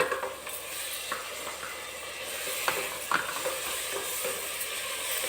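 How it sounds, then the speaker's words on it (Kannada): Tomatoes frying with spices in a pan for vangibath, a steady close sizzle with occasional clicks of a spoon stirring against the pan. "ಚೆನ್ನಾಗಿ ಫ್ರೈ ಆಗಿ ವೀಕ್ಷಕರೇ."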